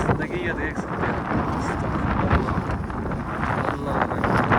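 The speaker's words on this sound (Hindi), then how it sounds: "कितनी तेज़ हवा चल रही है बर्फबारी के साथ" Strong wind roars and buffets the microphone during a snowstorm in a cold mountain village in Skardu, a continuous loud rushing with gusty swells; a voice speaks faintly underneath.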